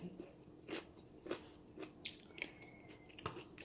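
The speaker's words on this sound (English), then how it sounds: "So I don't know if you can hear me chewing now." Someone chewing crunchy food up close, with a handful of distinct crisp bites spaced about half a second apart, quiet and with no talking.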